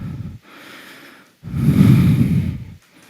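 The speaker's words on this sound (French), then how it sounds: "Respirez." Heavy, close breathing during kung fu stretching for children: a short, breathy exhale, a pause, then a longer, louder rushing breath before it fades.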